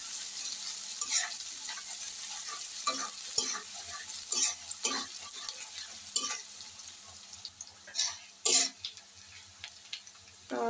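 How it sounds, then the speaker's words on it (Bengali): Chopped onions frying lightly in a pan for a thin shing fish curry, soft steady sizzle with scattered brief spatters and stirring scrapes, close and fairly quiet. "পেঁয়াজ কুচিগুলো দিয়ে আমি ভালো করে হালকা ভেজে নেব।"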